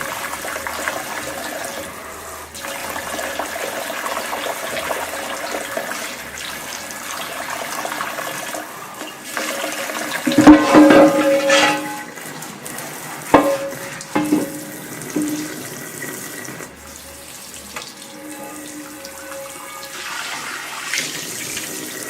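Tap water runs steadily while a cast iron skillet is scrubbed and rinsed in a sink, with intermittent splashes and clanks of the pan against the basin, louder in the middle.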